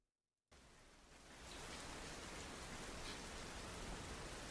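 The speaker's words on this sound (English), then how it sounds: "Oh, it's raining." Steady rain falling outdoors, a dense even hiss that starts abruptly and continues unbroken and fairly loud, with no voices.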